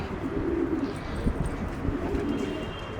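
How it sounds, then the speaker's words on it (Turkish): Domestic Adana breed pigeons in a loft give low, soft coos that repeat through a steady hum of background noise, with faint chirps above. "Bunlar bizim Adana kuşlarıdır. Yerli dediğimiz Adana kuşları."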